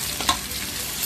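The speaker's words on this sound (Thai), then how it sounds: "เราตั้งน้ำมันก่อนแล้วก็ใส่หอมเจียวลงไปตามด้วยเต้าหู" Pad thai stir-fry with fried shallots and tofu in hot oil, giving a steady close sizzle and stirring hiss with a brief scrape near the start and no voices.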